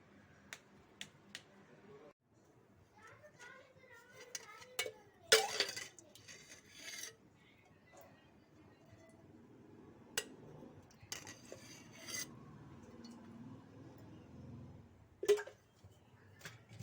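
Tomatoes and onions are stirred in oil in a pan, giving sparse metallic clinks and light scraping taps at irregular intervals over a quiet background, with no talk.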